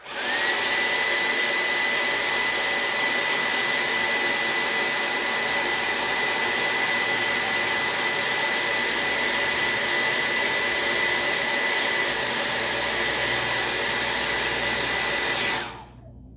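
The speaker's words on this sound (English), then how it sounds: "And I'll get a little copper. Dry this." Hair dryer blowing over embossing powder on a papercraft piece, a loud steady whooshing roar with a thin whine, running continuously for about fifteen seconds before switching off.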